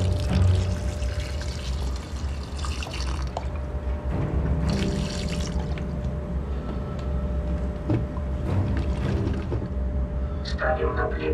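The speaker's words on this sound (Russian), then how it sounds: "Добавляем столько же воды." Water poured into a gold refining solution, a steady splashing, trickling stream with a few drips, close and fairly quiet, without speech.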